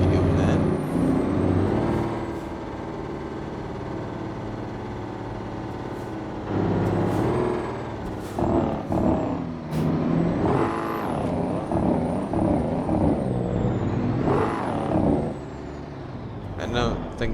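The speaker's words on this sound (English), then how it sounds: "I don't think that's the right way to use Jake brakes" A truck's Jake brake barks in American Truck Simulator gameplay while hauling double trailers, a loud sustained engine drone with rising and falling stutters and brief hissing bursts, with players talking over it throughout.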